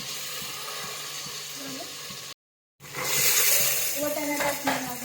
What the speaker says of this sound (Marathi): कांदा मस्त लाल झालेला आहे, तर आपण टमाटर देखील फ्राय करून घेणार आहोत।